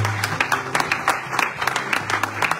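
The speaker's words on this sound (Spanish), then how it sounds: "Y si ustedes lo creen, denle un aplauso fuerte." Audience applause at a conference on happy marriages, a crowd clapping in a dense, irregular patter of claps that holds steady for a few seconds.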